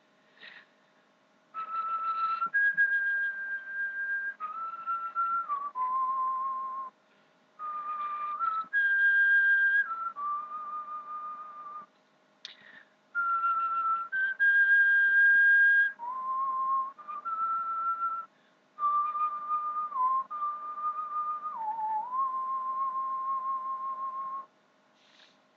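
A person whistles a melody from Dvorak's New World Symphony, slow sustained notes in several long phrases with short breaks, clear and close with no other sound.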